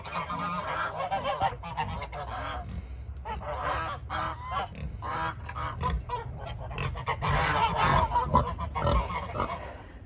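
A flock of geese honking loudly and repeatedly, their overlapping calls close by and continuous, with no talking.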